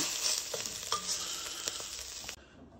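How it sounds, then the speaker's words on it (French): Vegetables for a flageolet, courgette, artichoke, carrot and orange pepper veggie patty browning in a little oil, with steady close sizzling and repeated scraping stirs of a utensil, ending abruptly. "qu'on va faire colorer dans un peu d'huile en remuant régulièrement"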